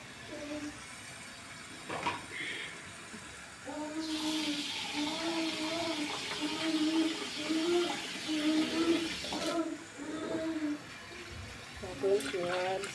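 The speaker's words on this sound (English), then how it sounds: "I'm gonna add some water." Water pours into a pot of rice for a home-cooked chicken and rice meal, a steady rushing stream of several seconds while a voice talks over it.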